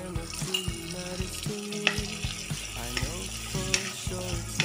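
Rice frying in a pan with green chillies, salt and turmeric, a moderate sizzle with repeated scraping and clinking of a ladle stirring, close by, with a few brief tonal sounds in the background.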